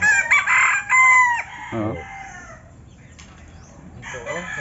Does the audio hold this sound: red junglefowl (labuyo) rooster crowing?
yes